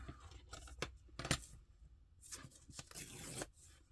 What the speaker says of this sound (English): fold it in half again